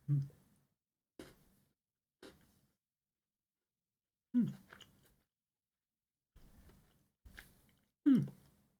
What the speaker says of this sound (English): You probably heard me crunch on the biscuit in the middle.